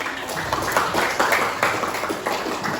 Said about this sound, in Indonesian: Tepuk tangan sekali lagi untuk kita semuanya.